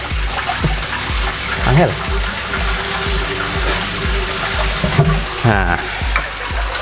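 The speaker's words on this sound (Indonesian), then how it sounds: "Ini pipa backwashnya saya tutupnya saya buka." Water gushes steadily from an opened backwash pipe on a koi pond filter, a loud close rushing flow with splashing, while someone speaks briefly over it.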